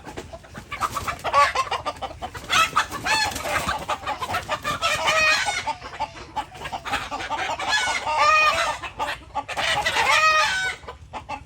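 Native country hens cluck and cackle in repeated bursts close by, a busy, rhythmic run of calls with short pauses between.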